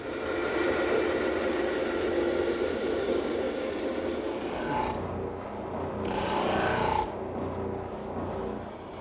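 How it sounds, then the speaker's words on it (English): A bandsaw cutting wood in a shop while building a croquet set and bench, a steady rasping hum of the blade through the timber with a couple of brief brighter bursts near the end, close and continuous. "Now to the bandsaw."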